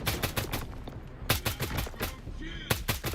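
Rapid gunfire in a video game, sharp repeated shots in uneven bursts, loud and close, with voices over parts of it.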